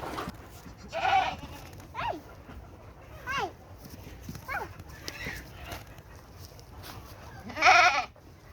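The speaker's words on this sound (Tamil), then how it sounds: "பட்டுங்க ஆட்டுக்குட்டி பாரு." Young goat kid at a farm in Oman bleating several times in short, wavering cries at irregular intervals, the loudest near the end, with quieter voices talking in between.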